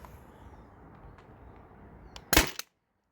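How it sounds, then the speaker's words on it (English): A Byrna TCR launcher fires outdoors: one sharp, close pop and a quick smaller second crack, followed by abrupt silence after faint background noise. "So this thing's working good. I'll keep shooting it."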